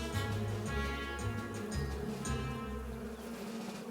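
Bees buzz steadily inside a hive, a dense continuous drone with a low hum throughout, moderately loud and without any voices.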